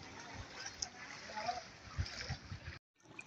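A vehicle pushes through knee-deep flood water on a rain-soaked road, giving continuous sloshing and splashing at moderate level, with a few heavier surges before it cuts off abruptly.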